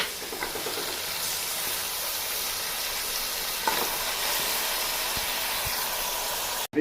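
One kilo of mutton sizzles in masala for mutton chops, a loud, steady hiss of frying with occasional stirring knocks, close up and without speech.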